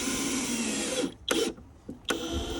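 A power drill drives screws into the crossbars of a wooden top bar hive, whirring steadily at close range before stopping and restarting in a few short bursts, with no talking.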